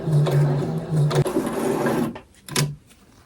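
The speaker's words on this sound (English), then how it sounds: "Now I have the front piece sandwiched with the left piece, and I'm gonna sew along this line." A sewing machine stitches doll clothes pieces together in close, steady running bursts, pausing briefly before a short final run, with no voices.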